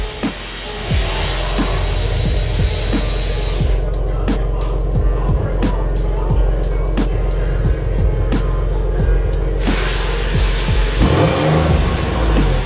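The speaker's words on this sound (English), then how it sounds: "we're gonna about now rev it and see how it sounds." A car engine with newly installed aftermarket parts revs repeatedly, loud and close, its deep throbbing idle rising in several sharp bursts and settling back between them.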